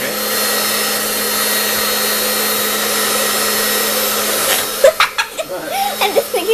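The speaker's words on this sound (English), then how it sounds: "Can you pick up the hairdryer" A hair dryer heating a bowl of water blows with a steady, loud whir for several seconds, then cuts off, leaving a few scattered knocks and faint voices.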